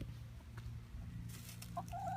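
Chickens cluck softly in a steady, low murmur, with a couple of brighter squawks near the end, fairly close by.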